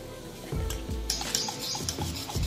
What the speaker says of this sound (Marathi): चांगलं फेटून घ्यायचं आहे पीठ आपल्याला